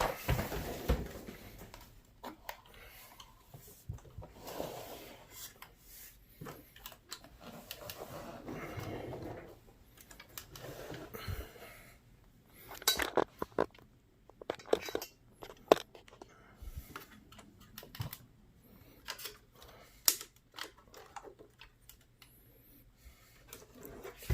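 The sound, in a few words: winch motor of HG P602 RC truck running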